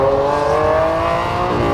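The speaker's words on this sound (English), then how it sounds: "I do this acceleration every single vlog under this underpass" A Lamborghini Aventador accelerating under an underpass, a loud, sustained engine roar with rising harmonic tone echoing off concrete, close and dense for the whole short burst.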